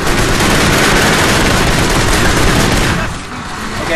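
Dense, loud gunfire from the video game Kane and Lynch, a continuous barrage of rapid shots that thins and drops away near the end.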